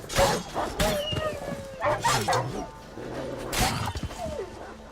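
Wild dogs in the video game Witcher 3 give several sharp barks and yips in quick bursts, with whimpering and combat thuds, while someone talks over them.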